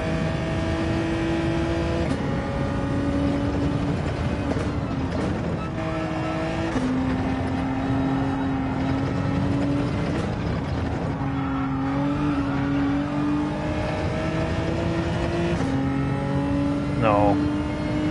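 A racing car engine in a racing video game drones loud and steady, its pitch climbing through each gear and dropping at every shift, with repeated throttle lifts and revs throughout; someone talks briefly over it.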